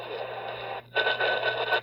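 A Retekess TR627 emergency radio plays a received broadcast station, loud and clear from close by, with a short dropout near the middle before the sound returns.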